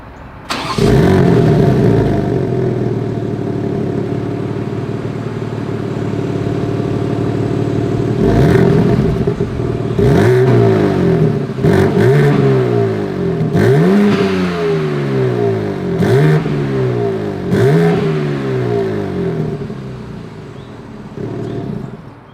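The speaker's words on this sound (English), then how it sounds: "As always, here is that exhaust clip." A BMW M3 with a sport exhaust and quad chrome tips starts up loud and close, then settles into a steady idle before a series of sharp throttle blips rev up and fall back roughly every two seconds, with no voices.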